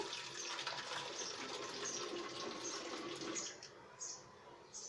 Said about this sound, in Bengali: আমি হাফ কাপ পানি নিয়ে নিচ্ছি